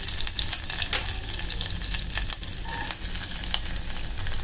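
Chopped onion with curry leaves sautés on a high gas flame, a dense, loud, close sizzle with scattered crackles and spatula clinks throughout, no voices.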